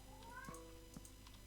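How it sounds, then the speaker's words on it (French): A cat meows faintly in the background, a couple of short drawn-out cries over a low steady hum, distant and quiet with no talk. "c'est un chat qu'on entend miauler là?"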